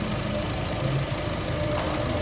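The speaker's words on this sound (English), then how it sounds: "as you can see, the engine is running nice and smooth" A 2011–2020 Fiat Panda engine idles steadily after a timing belt replacement, giving a continuous, even low rumble with a smooth rhythmic pulse, close by and alone.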